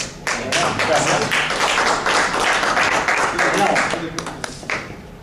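A crowd claps and applauds steadily, dense and fairly loud, with a voice speaking briefly over it before the clapping thins out near the end.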